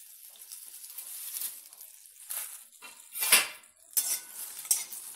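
Cinnamon pieces and bay leaves are dry-roasted for garam masala, a metal spoon scraping and clinking against the pan in irregular bursts, close but fairly quiet, with faint rustling of the spices between strokes.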